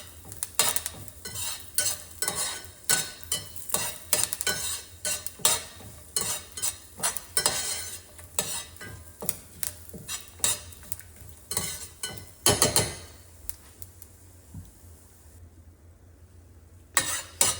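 Flax seeds dry-roast in a pan while a spoon scrapes and stirs them in quick, repeated strokes, with sharp clinks of metal on the pan and a light crackle between strokes; near and alone, tapering toward the end.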